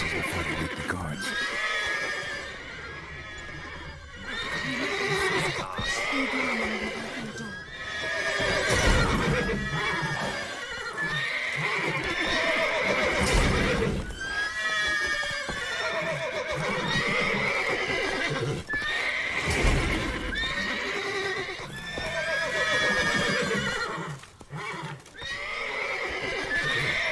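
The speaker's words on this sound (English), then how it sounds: "Gotta call off the horses before they wake the guards." Horses whinny and neigh repeatedly over a rhythmic clatter of hooves in The Witcher 3: Wild Hunt, loud and close, sustained throughout with a synthetic, game-like quality.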